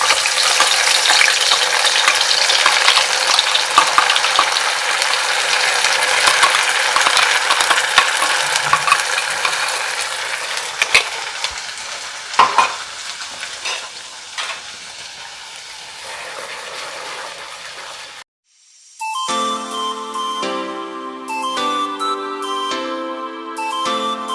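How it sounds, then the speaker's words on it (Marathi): Roasted, ground masala paste hits hot oil in a pan for Khandeshi dubuk vada curry, giving a loud, steady sizzle and frying crackle with occasional stirring scrapes for most of the clip, which then cuts abruptly to music. "जो मसाला भाजून वाटून घेतलाय तो आता तेलात टाकायचा"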